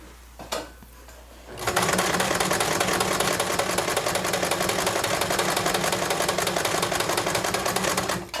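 A sewing machine set to its buttonhole setting runs steadily after a quiet start, its rapid needle chatter close, loud and unbroken for several seconds.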